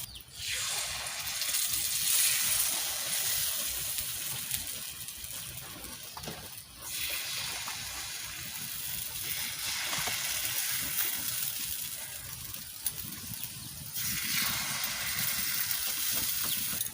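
Sas pitha batter frying in a hot pan, a steady bright sizzle that holds for several seconds with brief dips and surges, close and fairly loud with no talking.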